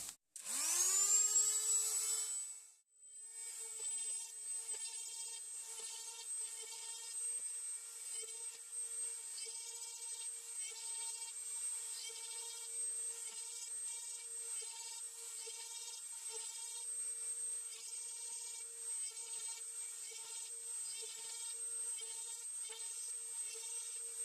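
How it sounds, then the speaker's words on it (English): A small Dremel rotary tool drilling holes in a plant pot whines up to speed and runs steadily at a high, buzzing pitch, with a brief dip early on before settling into a constant drone. "I'm going to start drilling holes in this pot"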